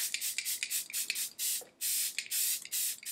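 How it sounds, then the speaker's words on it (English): Hourglass Veil Setting Spray misted in a series of short, close bursts, roughly a dozen quick hissing sprays of varying length with brief gaps between them, no talking. "for setting spray, she picked Hourglass Veil Setting Spray"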